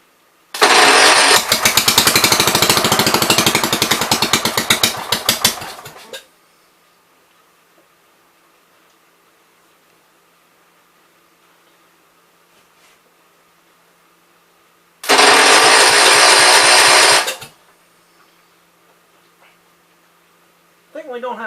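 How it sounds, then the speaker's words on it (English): A 1973 John Deere 110 lawn tractor engine, running on carb cleaner, roars loudly for about five seconds and dies. After a quiet gap it catches again for a shorter burst of roughly two seconds. "So it's mainly just running off the carb cleaner"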